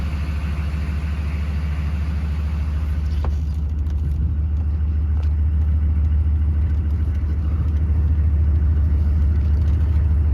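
Chevy K1500 with a 6.5 diesel engine running steadily, a loud low idle rumble throughout with no talk and little change in pitch.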